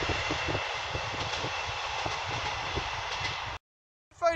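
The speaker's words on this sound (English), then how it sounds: "Yarmouth train coming in." A Yarmouth train rolls in with steady rail rumble and faint rhythmic clatter for several seconds, then cuts off abruptly.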